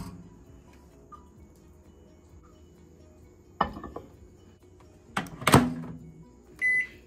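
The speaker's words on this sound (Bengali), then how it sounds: "এবার এটিকে আমি মাইক্রোওয়েভ করে নেব।" A microwave oven set to steam rohu fish with poppy seed paste and green chillies gives a low hum, broken by door clunks and handling knocks midway and a short electronic beep near the end.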